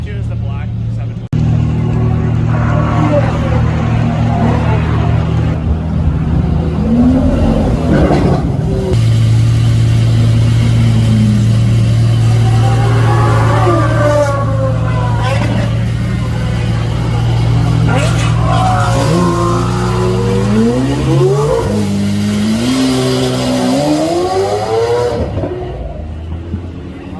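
Sports cars at the GoldRush Rally at Radford Racing School accelerating past, engines rising and revving loudly in pitch sweeps, with excited spectators talking over them throughout.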